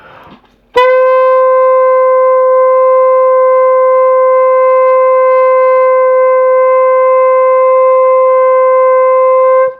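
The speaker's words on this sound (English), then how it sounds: "visualize the note traveling as a single column of air" A single sustained note is blown on a wind instrument, a pure and loud tone held steadily for about nine seconds after a short bit of quiet room noise. It cuts off at the end.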